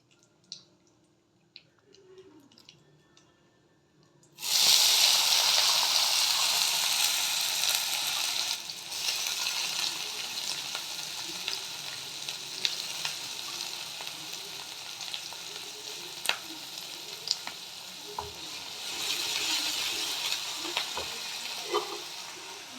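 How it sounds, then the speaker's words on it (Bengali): Chopped onions and cumin seeds sizzle loudly in a hot pan, a steady close frying hiss that starts abruptly and continues with occasional pops and stirring noises, no talking. "এই পেঁয়াজগুলো আমি ভেজে নেব, একটু টুটুর পুটুর হয়ে যাক জিরেগুলো।"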